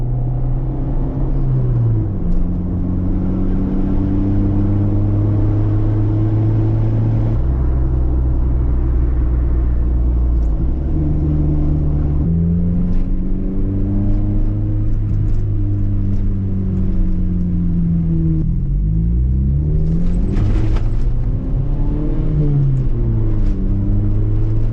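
A Honda Civic EG track car with a D16A engine drives hard, its harmonic engine note rising and falling through repeated revs and gear changes, loud and steady throughout, with no voices.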